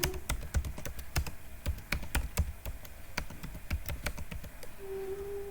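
Fast, close typing on a computer keyboard while entering a database query, a rapid string of sharp clicks in an irregular rhythm with a few brief pauses.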